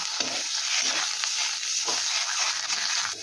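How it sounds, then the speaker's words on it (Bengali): Kharkol leaf paste frying in mustard oil in a wok makes a loud, continuous hissing sizzle, broken now and then by scrapes of stirring, with no talk. "ভালো করে তেলের সাথে ভেজে নেব যতক্ষণ না পর্যন্ত এর জলটা শুকিয়ে যাচ্ছে"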